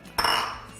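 A single clink of a spoon against the Instant Pot as cheddar cheese is mixed into chicken and rice, a sharp close metallic hit followed by brief scraping.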